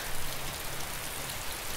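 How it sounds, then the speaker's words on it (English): Steady rain falls in the survival video game DayZ, a dense, even hiss of drops on surfaces that continues unbroken and fairly close, with no voices over it. "Yeah, but it's raining"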